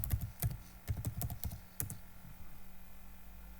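Keys clack on a computer keyboard in short uneven bursts, close and fairly quiet, then stop for the last stretch.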